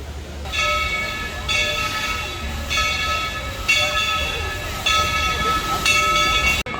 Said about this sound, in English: It can take a while for this train to come through.